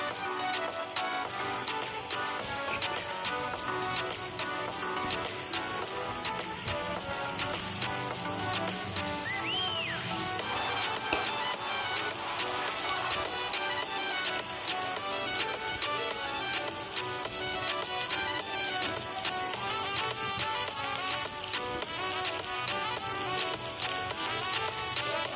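Sweet paniyaram batter fries in oil in the wells of a paniyaram pan, giving a steady, dense crackling sizzle that runs unbroken and fairly close for the whole stretch, with no voices.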